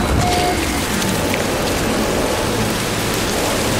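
Heavy rain storm in No Man's Sky pours as a loud, dense, unbroken wash of falling water, steady and close throughout with no voices.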